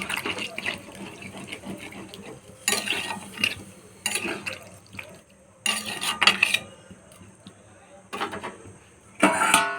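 Water poured into a cooking pot of sautéed potatoes for boiling, heard as several short bursts of splashing and clattering pot sounds between quieter stretches, with a voice speaking nearby.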